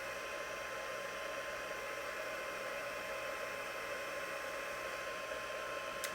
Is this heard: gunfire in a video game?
no